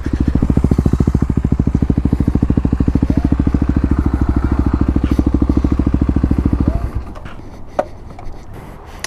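A Kawasaki KLX250 dirt bike pulls a small wheelie while arriving at a Walmart parking spot. Its single-cylinder engine chugs in fast, even, loud pulses, then cuts off, leaving faint clicks and rustles.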